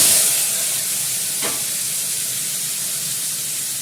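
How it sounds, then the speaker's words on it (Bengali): Potatoes frying in a hot kadai, a loud close sizzle that bursts in as they hit the oil and settles into a steady hiss, with no talking. "কড়াটা ভালোই তেতেছে, আমি আলুটা দিয়ে দিই"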